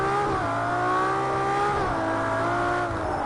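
A car drives steadily to warm up its tyres, its engine droning at a sustained pitch with a few small dips and rises in revs, close and continuous, with no talking.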